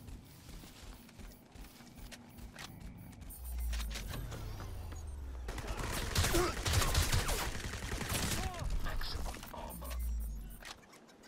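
Gunfire in Crysis Remastered, a first-person shooter, crackles in bursts across the middle of the stretch, mixed with game ambience, vehicle-like rumble and a voice talking over it.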